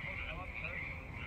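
A frog croaks on the Pasatiempo golf course in a steady, continuous trill, heard from a moderate distance under people talking.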